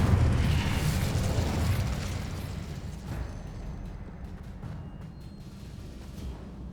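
A burst of the Incendio fire spell in the Hogwarts Legacy wizarding game, a loud fiery whoosh and explosive blast at the start that fades into a long, rumbling roar with no speech.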